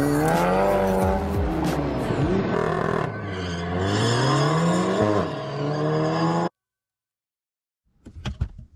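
An Audi S3 running an autocross course at Pungo revs hard with rising and falling engine pitch and tire squeal close by for several seconds, then cuts to silence before a brief burst of engine noise returns.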